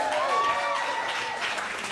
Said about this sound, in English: let's clap it up for World Poetry Day.